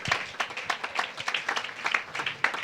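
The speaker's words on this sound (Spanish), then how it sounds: "Aplausos al nombre poderoso de Jesucristo" A church congregation claps in quick, uneven rhythm, many hands overlapping in a lively burst of applause that continues without talk.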